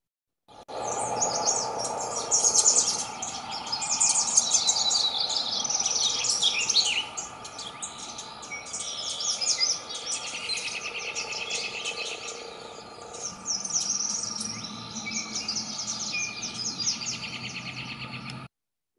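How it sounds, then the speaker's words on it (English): Several bird species singing together in an outdoor chorus, overlapping high chirps, trills and whistles continuing throughout, with a steady insect drone underneath and no talking. "you can identify all of the species based solely on the songs that you're hearing"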